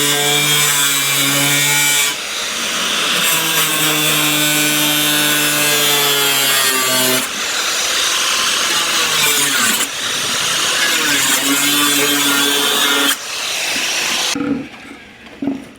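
Loud, continuous cutting through an old 20-litre plastic water can, with a harsh rasping drone and squealing overtones that run in long unbroken strokes before stopping abruptly near the end.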